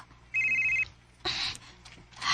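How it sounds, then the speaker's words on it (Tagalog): A telephone rings in two short electronic bursts with a pause between them, close and fairly loud, followed by the start of another ring and no talking. "Si Anton ang nanawag"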